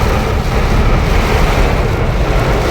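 Heavy rain and gusting wind against a car being driven through a downpour, a dense, unbroken roar of water and wind close around the vehicle, loud and steady throughout.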